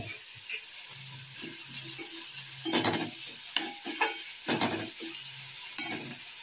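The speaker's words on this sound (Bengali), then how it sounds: "এবার আলু আর ফুলকপিটা ভালো করে আর একটু নাড়াচাড়া করে নেব।" Potato and cauliflower stirred in a pan with salt, ginger and chopped green chilli, giving soft intermittent scrapes and bursts of frying over a low steady sizzle, close and fairly quiet, with no talking.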